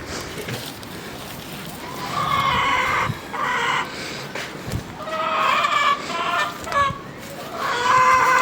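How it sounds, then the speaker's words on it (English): Roosters crowing repeatedly nearby on an allotment, with hens clucking underneath in a steady, noisy farmyard chorus. "bloody cockerels loud, shut up!"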